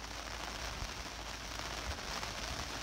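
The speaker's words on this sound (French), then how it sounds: "la première vraie pluie" Steady, soft patter of rain falling on a sailboat in the Dodecanese, Aegean Sea, a dense even hiss with scattered drops and no voices.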